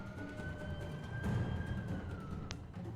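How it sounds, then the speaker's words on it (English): A police siren wails from the city outside, a single rising and falling tone heard faintly at a distance over low background rumble. "siren timing was so good"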